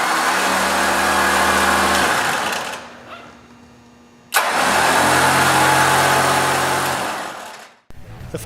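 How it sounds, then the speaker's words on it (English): A WARN Powerplant winch on a Jeep Wrangler TJ whines loudly as its motor spools out line in two sustained runs separated by a brief quiet pause, close and mechanical with no speech. "flip the knob to winch and spool out a few feet of line to make sure everything is working properly"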